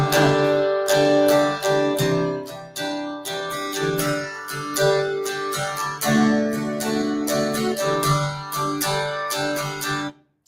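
Acoustic guitar strummed chords in a steady down, down, up pattern, bright and close, ringing for about ten seconds before stopping abruptly, with no voices.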